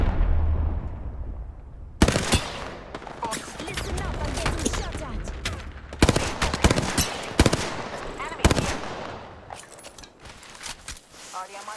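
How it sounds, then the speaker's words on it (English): Gunfire in the battle-royale shooter Apex Legends, sharp bursts and shots cracking in clusters at about 2, 6 and 8.5 seconds over a steady background rumble, with sporadic rattles in between. "Listen up, I'm getting shot at."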